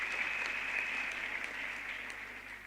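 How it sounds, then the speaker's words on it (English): Audience applause at a university autumn graduation ceremony, a dense, steady wash of many hands clapping that fills the hall evenly throughout without pause. "Can we give them a big round of applause, please?"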